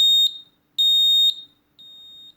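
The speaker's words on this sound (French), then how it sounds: "si vous restez appuyé, vous pouvez régler la puissance du son du bip" An Aqara smoke detector gives sharp, high electronic beeps, two loud tones followed by a softer third as its volume is turned down, each beep ringing briefly in a quiet room.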